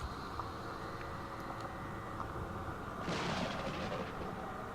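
A grenade explosion in XCOM 2 bursts out as a sudden broad roar midway through and rumbles for about a second over a steady low game drone.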